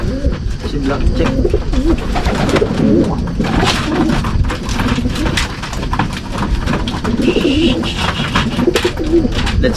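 Pigeons being trained coo in low, throaty repeated calls at close range, with a voice speaking among them and some rustling and flapping.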